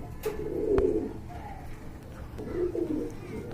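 A pair of yellow Bombay pigeons gives two near, throaty coo phrases, one early and one later, separated by a quieter pause with faint background noise.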